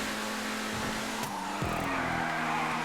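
A race car in the video game GTA 5 oversteers and skids, engine droning steadily as tires squeal in a couple of sharp bursts partway through.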